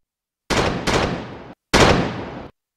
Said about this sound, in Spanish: Los 20 cañones que habíamos llevado rugieron al unísono.